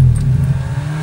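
A rally car engine rumbles loudly and close at a hill-climb event, settling into a steady low idle over a brief moment.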